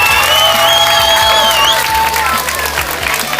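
Loud applause and cheering from a school audience at a farewell for ninth-graders, after a teacher recites a poem; dense clapping mixed with whoops and children's shouts, with voices throughout.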